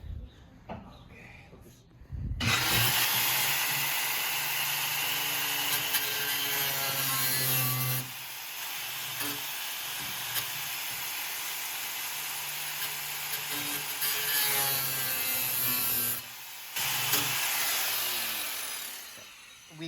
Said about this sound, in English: I need the grinder.